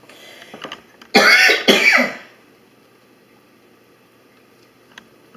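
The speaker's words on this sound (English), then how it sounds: "I still got a little bit of cough" A person gives two quick, loud coughs close by in an otherwise quiet room, followed by near silence.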